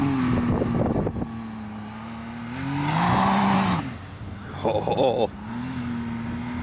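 A Can-Am Maverick XRC off-road vehicle with its engine revving outdoors, the tone rising and falling through several swells, loudest near the middle, with a brief exclamation from a person at the start.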